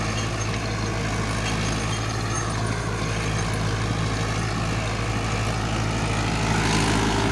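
A Mahindra Arjun 555 DI tractor pulls a three-bottom plough through very hard ground with its tyres slipping, the engine roaring loud, close and unbroken under a dense rumbling wash, with no talk.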